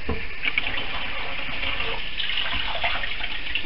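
Tap water runs steadily into a sink while squid is washed, a close, continuous gushing splash with slight fluctuations and no talk.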